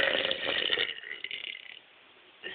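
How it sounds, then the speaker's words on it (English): A long, raspy burp rumbles up close and loud, then tapers off into quiet before a short final burst. "I can make myself burp too."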